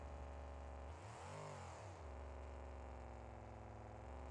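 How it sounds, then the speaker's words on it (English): A monster truck engine in BeamNG.Drive holds a steady low idle hum, then rises briefly into a rev that swoops up and falls back before settling into the same even drone. "I'm not going to turn off the engine going down hills and stuff"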